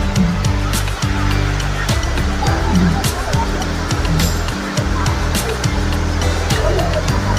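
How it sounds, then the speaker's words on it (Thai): Sai Yok Noi waterfall in Kanchanaburi runs strong after fresh rain, a loud, steady roar of rushing water that fills the whole stretch, with faint thumps and a murmur of people nearby. "เดี๋ยวชมน้ำตกไปด้วยกันนะครับ"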